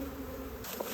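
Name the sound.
honey bees swarming into a hive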